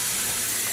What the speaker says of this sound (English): then fill the basin back up with water